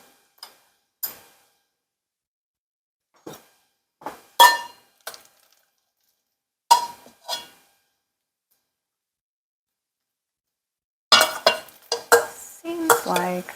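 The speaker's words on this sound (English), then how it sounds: "you can also do a light smash so there'll be some banana chunks in your bread" Ripe bananas being mashed for banana bread batter, lightly smashed to leave chunks: sparse, isolated squelching presses and utensil taps against a bowl, then a denser burst of clinking mashing toward the end, with no talking.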